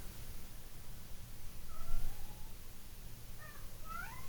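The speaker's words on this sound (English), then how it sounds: "Cat's trying to tell me to get to the point here." A house cat meows indoors, two or three short, faint calls rising and falling over a low room hum, heard a bit apart from each other with no voices.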